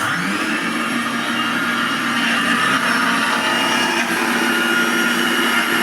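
A mixer grinder whirs loud and steady as it grinds coriander with green chillies into a fine paste, with no voices over it.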